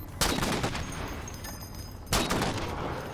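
Sniper and rifle gunfire in the Halo 4 campaign, two loud broadband bursts of shots roughly two seconds apart with dense battle noise and reverberant tails between them.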